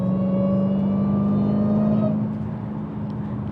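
Supercharged Dodge Hellcat engine pulling under gently rolled-in throttle, a steady strong drone with whining supercharger overtones that builds, then eases off as the revs drop near the end.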